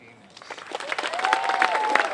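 Applause rises from a crowd at an outdoor pride flag raising in Danvers for a judge, building from quiet into steady clapping over a couple of seconds, with voices mixed in.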